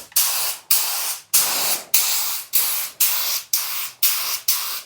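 A spray gun lays the first paint coat on an RD500 motorcycle tank in eight steady bursts of loud hissing spray separated by brief pauses, close and rhythmic, no voices.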